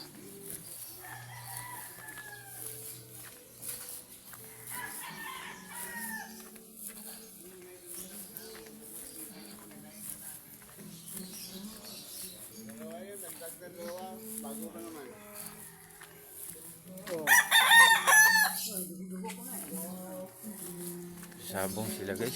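Fighting cocks crow repeatedly, some near and some farther off, against an outdoor background with people talking throughout and a louder crowing burst late on.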